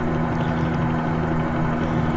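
Simulated Bell 47G2 helicopter flying over Las Vegas in Microsoft Flight Simulator, giving a steady, loud rotor and engine drone with a low tonal hum that continues unbroken throughout.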